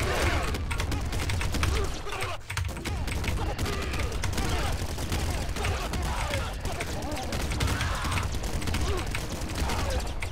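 Gunfire from the top-down shooter Nuclear Throne, fired from a weapon holding seventeen bullets, crackles as a dense continuous barrage of game shots for about ten seconds, mixed with mechanical clatter and louder than the surrounding action.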